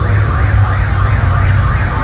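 Emergency siren wailing loud and close, a continuous rising-and-falling tone that cycles steadily with no pauses.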